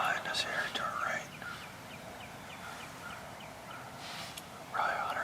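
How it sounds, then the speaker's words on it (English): A wild turkey gobbles in bursts from roughly 100 to 150 yards off, heard from inside a hunting blind, with rapid rattling calls at the start and end and quiet woodland between. "We got a bird gobbling pretty good out behind us here to our right."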